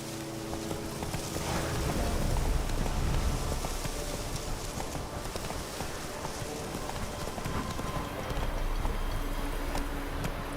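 Roach the horse gallops in Witcher 3 with a steady, continuous clip-clop of hooves, loud and close, layered over a constant hiss resembling rain.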